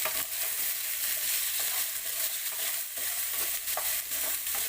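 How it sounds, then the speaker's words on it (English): Small chunks of potato sizzle in a hot pan for sabudana khichadi while being stirred, a dense bright crackle with scattered scrapes and taps from the stirring, close and without speech. "now we can put our vegetables, the potato"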